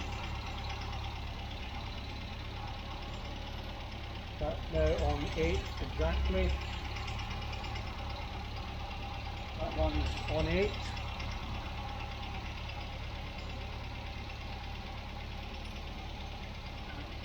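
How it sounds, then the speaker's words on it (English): A 1967 MGB Mk1 engine idles steadily at just over 900 RPM in the background while someone speaks briefly over it. "Idling at just over 900 RPM"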